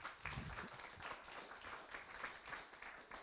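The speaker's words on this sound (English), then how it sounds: "I hope you heard the applause" Faint applause from a conference stage audience, a brief patter of scattered clapping heard at a distance and lasting only a few seconds.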